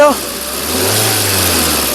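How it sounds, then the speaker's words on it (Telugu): A 2010 Volkswagen Vento Highline engine starts with a short crank and catches, then rises into a steady, close revving drone that holds for the rest of the moment with no talk over it. "ఎక్బార్ గాడి స్టార్ట్ కారు సింగిల్ సెల్ఫ్లో కార్ స్టార్ట్ అవుతుంది"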